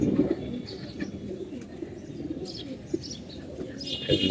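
Pigeons in a loft cooing softly and repeatedly, with occasional chirps and light wing movements close by, all fairly quiet.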